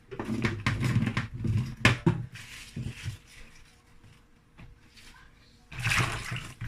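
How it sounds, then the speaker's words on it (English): Fresh okra being washed in water for soup, with splashing and sloshing bursts near the start and again at the end and quieter rinsing between. "I'm going to wash my okra first."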